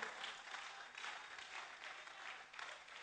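A church congregation applauding Joseph, with steady, dense clapping from many hands filling the space throughout.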